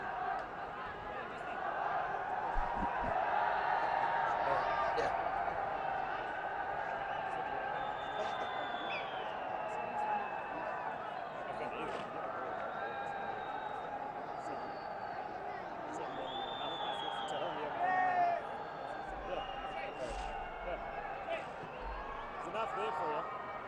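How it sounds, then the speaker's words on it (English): Small but vocal crowd at a Karachi cricket Test on the fifth and final day, a distant wash of chatter and cheering with a commentator talking over it throughout. "Small but vocal crowd at Karachi for the 5th and final day"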